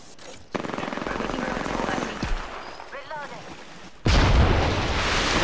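Video game shootout gunfire, with sustained rapid automatic bursts and a sudden louder wave of shots near the end, heard over people talking.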